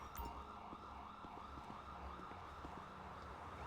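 Ambulance siren in the police video game mod LSPDFR: a steady, wailing tone sounds faintly through continuous background rumble, without speech.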